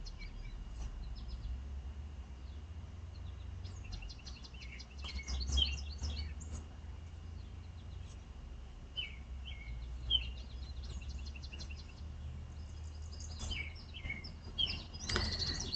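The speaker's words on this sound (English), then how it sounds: "The birds today are really amazing." Several birds chirping outdoors in scattered short bursts of high tweets, fairly faint over a low steady background hum, with no talking.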